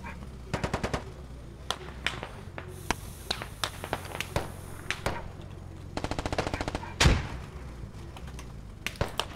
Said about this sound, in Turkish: Oradan da biri sıkıyor.